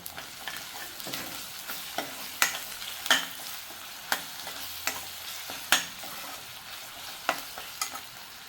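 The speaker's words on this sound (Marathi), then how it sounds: "कांदा आता बऱ्यापैकी थोडा मऊ झालाय आपण ह्यामध्ये आता आलं लसूण पेस्ट घालूया" Onion softened in oil with ginger-garlic paste, stirred in a pan for a Maharashtrian chana dal; a spatula scrapes and taps in a steady rhythm of close, sharp strokes over a faint sizzle.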